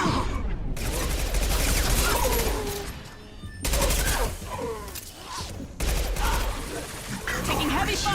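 Heavy gunfire in Mass Effect 2 on Insanity difficulty rattles in loud sustained bursts with brief lulls, while voices speak over the combat.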